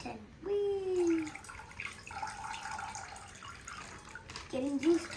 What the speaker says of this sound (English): It's like a fountain full of water.